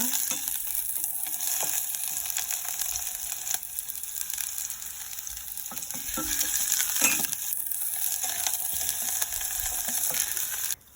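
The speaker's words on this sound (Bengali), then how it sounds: "তারপরে এটাকে একটু ভেজে নেব" Shelled peanuts frying in a pan for peanut bhorta, with a steady broadband sizzle and occasional scrapes and clicks of stirring throughout, fairly close and without speech.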